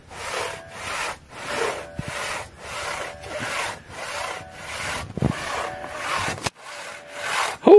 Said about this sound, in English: I'm very impressed with your sawing.